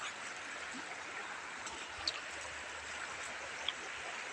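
River water flowing, a soft continuous wash and gurgle of a stream at low level, with no voices and a couple of faint brief splashes.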